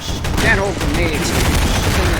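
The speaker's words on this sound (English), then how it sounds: "I killed myself with my grenade" A grenade blast in a Source engine multiplayer shooter, a loud burst followed by crackling, rolling gunfire-like noise that stays dense for about two seconds, with faint voice underneath.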